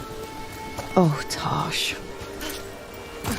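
Steady rain falls in the video game Dragon Age: The Veilguard, a constant close hiss under a brief spoken exclamation.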